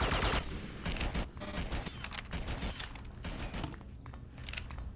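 A firefight in the video game Red Faction 2, with continuous rapid gunfire crackling back and forth, dense and fairly close, with the bursts rising and falling over a few seconds and no speech.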